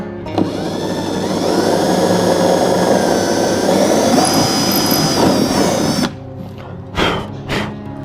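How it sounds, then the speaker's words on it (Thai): A power drill whines loudly and steadily as it bores into the wooden body of an acoustic guitar, then stops abruptly, followed by a couple of short handling knocks. "ตัวนี้เจาะเรียบร้อยแล้วนะครับ"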